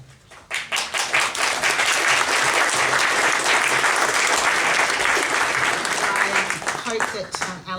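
Sustained audience applause at a community information session on a harmful algal bloom, dense and loud for several seconds before tapering off, with speech faintly mixed in.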